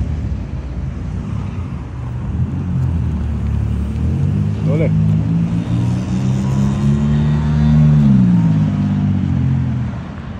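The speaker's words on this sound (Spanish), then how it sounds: "Y todos esos carros son los que vienen de allá del sur." Cars roll past on a busy road near a gas station in Nogales, a continuous low rumbling traffic drone with one vehicle's engine swelling and fading midway, fairly close and steady throughout.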